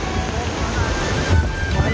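Floodwater rushes loudly from an overflowing village lake after torrential rain, a steady broadband roar of churning water with wind buffeting the microphone throughout.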